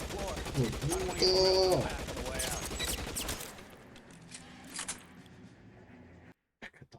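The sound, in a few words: gunfire in the video game L.A. Noire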